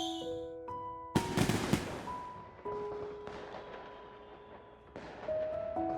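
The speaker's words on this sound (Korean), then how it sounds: "불꽃놀이가 시작되겠습니다" A burst of crackling, popping fireworks at a school festival in the game NIKKE, bright and rapid, then fading under sustained soft game music tones.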